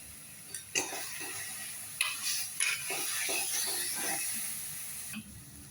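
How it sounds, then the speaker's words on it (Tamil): Green chillies sauté in a pan for chicken masala, a steady sizzle with a spoon scraping and stirring in several quick strokes, close and clear with no voices. "நல்லா சேர்த்து வதக்குவோம்."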